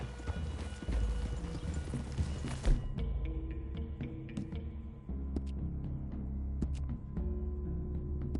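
Horse hooves clip-clop in a rhythmic walking gait in the Red Dead Redemption 2 video game, close and steady, with soft tack rattles and a faint ambient game score underneath.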